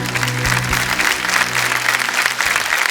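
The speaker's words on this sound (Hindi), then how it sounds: "तालियां बजाएं के लिए।" A studio audience on a televised quiz game applauds a departing contestant, loud continuous clapping filling the room with a low hum beneath and a couple of thumps.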